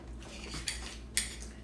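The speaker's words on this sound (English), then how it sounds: "I'm taking my spoon and chopping into the bacon to break it up" A spoon chopping bacon in a pan to mix with eggs, two sharp metallic clinks of spoon on pan, close and clear over faint background hum.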